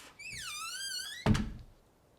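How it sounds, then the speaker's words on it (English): A door creaks on its hinges with a rising-and-falling squeak, then shuts with a single solid thunk, close and clear in a quiet room. "Close the door behind you first."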